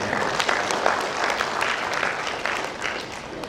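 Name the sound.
audience applause at graduation ceremony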